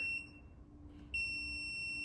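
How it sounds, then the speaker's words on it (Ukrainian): A Laser Deton initiation board for a kamikaze drone gives steady, high electronic beeps that stop briefly, then resume after a short delay, close and clear over a low background hum. "і буде пищати з затримкою"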